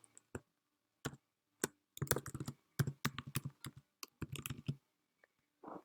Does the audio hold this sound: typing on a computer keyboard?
yes